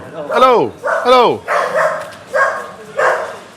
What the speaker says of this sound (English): And you hear the dogs. The dogs are in there.